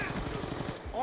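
A quick burst of automatic gunfire in a video game, rapid rattling shots under a faint voice, ending with a short rising tone.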